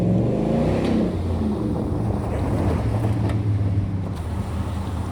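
A 2016 Ford F150 with a Flashshark cat-back exhaust gives a steady, deep rumble close to the mic, with wind noise buffeting over it and no sharp revs.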